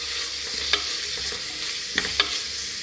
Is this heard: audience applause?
no